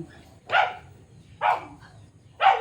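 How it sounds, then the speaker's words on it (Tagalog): Three barks ring out at roughly even intervals, moderately loud and a little distant, with a faint low rumble underneath. "napakaingay ng mga aso"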